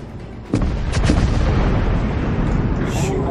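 Cruiser main guns in World of Warships fire from behind an island, a sudden loud booming salvo with a heavy rumbling tail that rolls on for seconds, followed by a faint whistling shell sound near the end.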